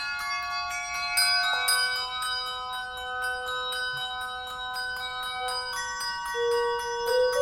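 Handbells ring out a high, piano-like melodic opening of a song from a movie about P.T. Barnum, with clear sustained tones that overlap and decay steadily over about seven seconds, with no voices.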